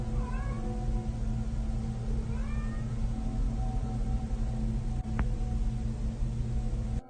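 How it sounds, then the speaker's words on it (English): A pet cat meows at night in a bedroom, two drawn-out, rising cries early on over a steady low hum and hiss, with a brief click later. "She begins recording a Snapchat after she notices her cat is meowing"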